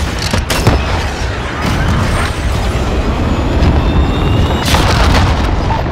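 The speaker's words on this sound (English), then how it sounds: "Cruise missile away." A Call of Duty Modern Warfare cruise missile strike: a loud, sustained rumbling roar of explosion and debris fills the whole stretch, with sharper blasts near the start and end over a constant heavy low rumble.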